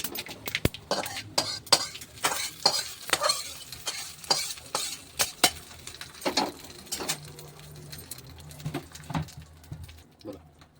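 Hot fried tempering with curry leaves poured into a chana dal, coconut and peanut chutney, giving short sizzles and spoon-and-pan clinks and scrapes in an irregular rhythm, close and moderately loud with no talking.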